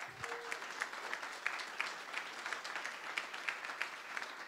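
Applause from the audience at a Per Scholas Greater Boston graduation ceremony: steady, dense clapping from a crowd in an indoor hall, moderately loud and sustained throughout with no talking over it.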